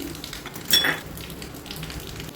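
Fenugreek seeds dry-roasting in a pan for homemade raw-mango pickle masala: a brief burst of rattling and sizzle as the seeds are stirred, then a faint, quiet crackle and scraping.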